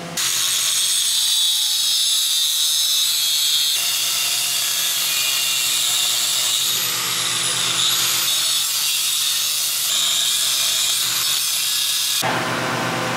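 A power tool cuts and grinds a notch into a Ford Bronco motor mount, giving a loud, continuous metallic whine. The whine holds steady for several seconds, then breaks off briefly near the end.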